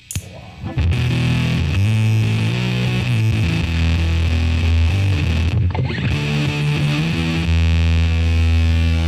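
A thick, heavily distorted guitar fuzz tone from an Electro-Fuzz pedal on its big bass capacitor setting, with a deep low end, sustained notes grinding loudly and continuously with no voices.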